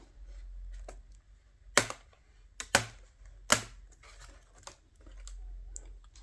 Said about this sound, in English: We do this all around, and the keyboard will just come off.